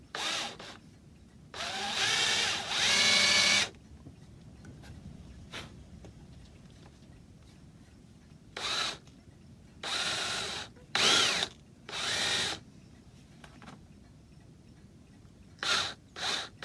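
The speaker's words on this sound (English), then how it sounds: "I don't want to drill any of the rosewood." Power drill boring into a Victorian rosewood chair frame, several short bursts of whirring at varied lengths with quiet gaps and small handling clicks between, close up.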